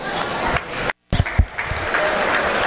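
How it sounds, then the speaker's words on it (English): Spectators at a swine show ring clap for exhibitors leaving the ring, a loud, dense burst of applause broken by a brief dropout before resuming evenly. "Let's make sure they have a nice round of applause as they exit the ring"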